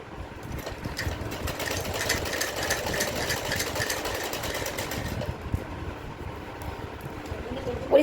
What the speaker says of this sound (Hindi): इस तरीके से स्लीव्स की सिलाई करते हैं हम यहाँ पे।